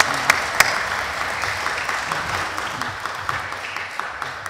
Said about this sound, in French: Ah bon, on va l'applaudir.